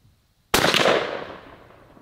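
A single sharp blast from a Weatherby SA-459 shotgun fitted with a Jebs choke cracks out of silence, loud and close, then rings off into a fading outdoor echo.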